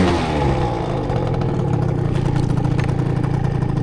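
An Aprilia SR Euro 4 scooter with a 70cc Athena Sport kit and Hebo exhaust revs hard for a launch. The two-stroke engine snarls loud and close, buzzing steadily at high revs the whole time, and no one speaks.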